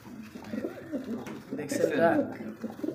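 Male pigeon cooing in a loft of pigeons for sale, a low rolling coo repeated close by over background voices and bird noise.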